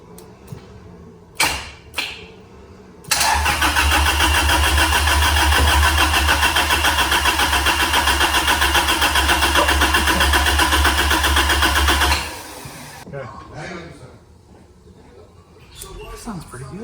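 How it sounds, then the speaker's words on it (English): A manual Honda Civic EK with a turbo D16 engine, long unused, cranks and catches, then runs loudly at a steady rev for about nine seconds before settling down, with brief voices before and after. "This engine sounds great."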